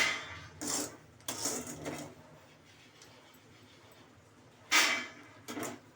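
Roasted peanuts shaken to knock off hot sand in a pan, giving a few short rattling, scraping bursts spaced apart with quiet gaps between them.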